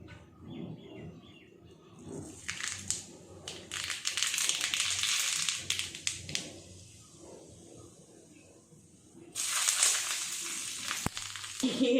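Mustard seeds dropped into smoking-hot mustard oil, heard as bursts of bright crackling and sputtering sizzle that swell, ease off, then flare up again, with faint background sounds.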